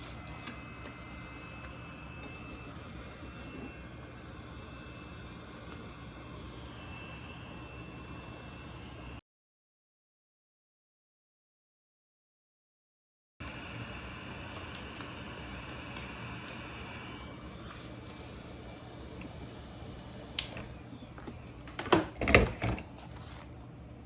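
Hot air station blowing while a Game Gear LCD screen is lifted out; a steady, soft airy hiss runs on, drops out for a few seconds, then returns with some small clicks and taps near the end.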